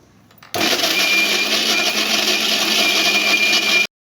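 A kitchen mixer grinder blends onion and coconut with water into a paste, a loud, steady motor whir with a high churning whine that starts abruptly, runs unbroken for about three seconds and cuts off sharply.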